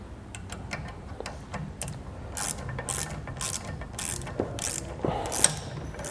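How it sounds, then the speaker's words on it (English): A ratchet with a 9/16 inch socket tightens the bolts of a B and W Companion OEM 5th wheel hitch on a 2020 GMC Sierra. Brisk, rhythmic clicking bursts repeat close by, with no talk. "we're going to use a 9/16 inch socket and then a 7/32 inch Allen head"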